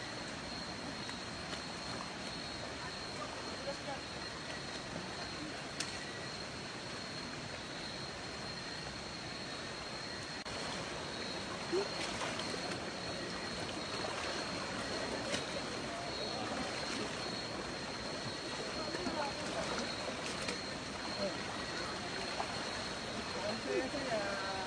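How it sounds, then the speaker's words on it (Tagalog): A waterfall on a hiking trail on Mt Malarayat gives off a steady, dense roaring rush of water that holds even for the whole stretch, with faint voices now and then. "So guys, dito na kami sa falls."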